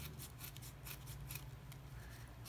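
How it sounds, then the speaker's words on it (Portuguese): Scissors snip through ribbon while a bow is made by hand, a quick series of faint, close, crisp cuts repeating in an uneven rhythm over a quiet room. "Vamos cortar essa parte."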